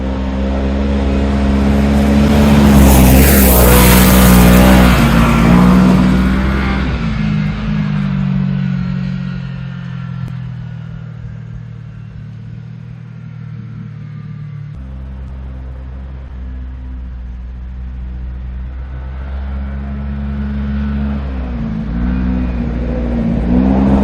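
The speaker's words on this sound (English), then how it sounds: "let's set you up, and I'll take a spin right by the camera" A Kawasaki KRX 1000 side-by-side with rebuilt D3 OffRoad shocks drives past, its engine revving loud and close before fading to a lower rumble as it moves away, then building again toward the end.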